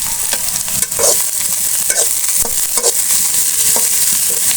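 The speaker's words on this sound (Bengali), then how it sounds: "আমি এটাকে ব্রাউন করে নিব পেঁয়াজ রসুন কাঁচা ঝাল ব্রাউন কালার মতো হয়ে আসছে" Onion, garlic and green chili frying and browning in a pan, with a steady close sizzle and repeated scraping stirs of a spatula throughout, no voices.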